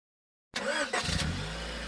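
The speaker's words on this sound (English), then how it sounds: "Hey, check out my new car." A car engine cranks and catches after a moment of silence, then settles into a steady, close idle.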